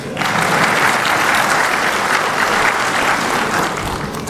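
Sustained applause from an audience at an ICCI event addressed by Pakistan's President, steady and loud clapping filling the whole stretch without a break, with no voices rising above it.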